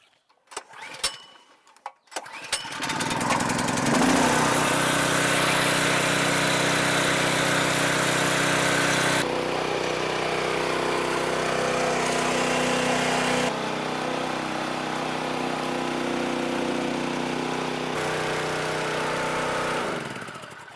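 A small pump engine, pulling water through a suction line to fill a DIY hydroseeder tank, starts after a few clunks and then drones loudly and steadily, its tone shifting slightly as the load changes.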